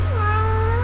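A pet cat gives a single drawn-out meow, clear and fairly close, over a steady low hum in the room.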